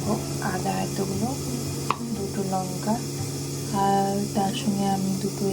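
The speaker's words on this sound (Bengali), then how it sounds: "বেগুনটাকে এভাবে ঢেকে লাল করে হালকা করে ভেজে নিই" Eggplant frying in oil in a covered pan sizzles steadily and close, with occasional clinks and stirring, and a person talks over it.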